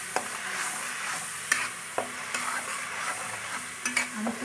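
Onion and garlic paste fries in a kadai for chicken, a steady soft sizzle broken by several sharp scrapes and knocks of a spoon stirring against the pan.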